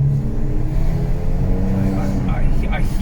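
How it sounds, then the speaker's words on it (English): A Hyundai Veloster N turbo engine rumbles low and steady from inside the cabin, rising into a rev near the end, with a person talking over it. "I hear that turbo already."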